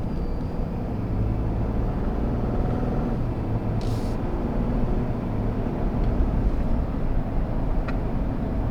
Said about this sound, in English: here we are on the inside of the truck with the windows up in quiet mode